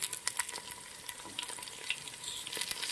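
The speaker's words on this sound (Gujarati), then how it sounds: "તેલના અંદર બટાકાને આપણે સરસ સંતળાવા દઈશું." Potatoes with curry leaves sizzle and crackle steadily in hot oil on a village wood-fired stove, with sharp pops and occasional scraping stirs close by.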